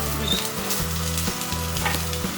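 Chicken coated in masala fries in a pan, giving a loud, continuous sizzle with a few stirring scrapes, heard under rhythmic background music.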